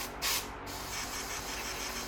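Air blown through the front outlet of a clogged Gaggia Accademia espresso machine: a short burst of hiss followed by a faint, steady breathy rush over low mechanical hum.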